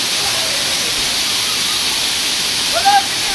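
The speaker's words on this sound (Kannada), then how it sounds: "ಸೊ ಇದು 80 ಫೀಟ್ ಇದೆ. ಮೇಲಿಂದ ರಭಸ ನೀರಂತ ಬರ್ತಾ ಇದೆ." Sirimane Falls in Karnataka, about 80 feet high, pours down in a constant, loud, hissing roar of rushing water that fills the whole stretch without a break.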